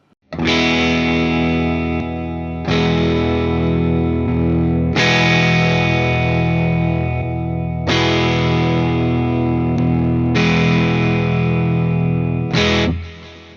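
Electric guitar with middle pickup through a Behringer Centaur overdrive pedal, heavily overdriven chords ringing out loud and sustained, struck again roughly every two to three seconds, with a brief final hit.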